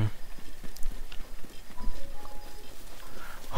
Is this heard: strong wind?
no